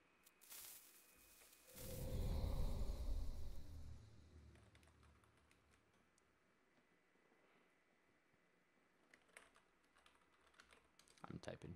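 Computer keyboard typing while playing Minecraft, a soft burst of keystrokes with a louder rustling swell early on, then quieter scattered clicks and taps.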